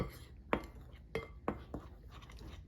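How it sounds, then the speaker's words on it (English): A utensil stirs flour and salt together in a mixing bowl for banana cake batter, giving a handful of sharp clinks and scrapes against the bowl spaced irregularly over a quiet background. "Just going to stir that all together."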